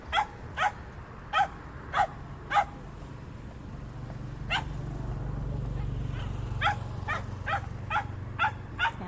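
Stray dogs on a street bark in sharp repeated bursts, some clusters quick and close together, over a steady low rumble of traffic and street noise.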